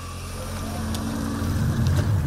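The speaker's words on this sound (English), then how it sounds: "the rather gruff engine note fires up to the accompaniment of a green ready message and a twinkling chime" A Renault Arkana 1.6-litre full hybrid fires up with a gruff engine note, a steady low rumble that swells slightly and holds close and continuous, with faint chime-like tones above it.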